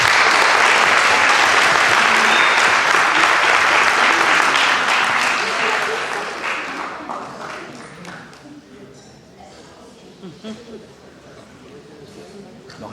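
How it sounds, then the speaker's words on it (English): A school board meeting crowd applauds a championship team, loud sustained clapping for about six seconds that then thins out into scattered claps and murmuring voices. "Let's give them all a round of applause"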